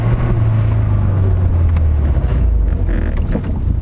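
A 330 bhp Vauxhall Corsa VXR accelerates hard with the window down, its engine a loud, steady low drone climbing in pitch, buffeted by wind rushing past the microphone.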